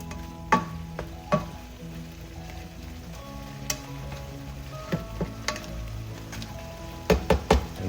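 Garlic butter shrimp cooks in a pan in the Filipino halabos na hipon style, with a steady close sizzle broken by occasional sharp utensil clicks and taps and no talk.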